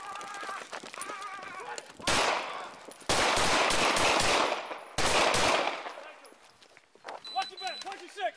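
Gunfire recorded on a police body camera during an officer encounter with an armed suspect: several loud, sharp bursts of shots in quick succession, with shouting voices around them and fainter radio chatter and ambient noise between.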